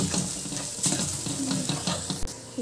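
Masala paste sizzles and fries steadily in oil while turmeric, red chilli powder and garam masala are stirred in, with soft scraping and clinks of a spoon over a continuous close crackle.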